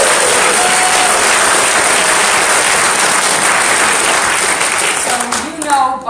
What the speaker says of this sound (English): so you know by the applause